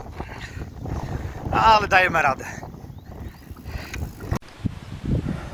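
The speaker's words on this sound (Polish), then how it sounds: "Hamuje nas wiatr." Wind buffets the microphone outdoors along the Via Regia pilgrimage route between Wrocław and Zgorzelec, a steady low rumble with gusty swells running through the whole stretch beneath close talking.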